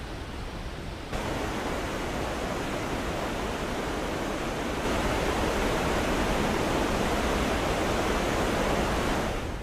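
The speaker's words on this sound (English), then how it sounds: "Nearby is lovely Bridal Veil Falls." Bridal Veil Falls at Niagara, a dense, steady roar of falling water, loud and unbroken, with no voices.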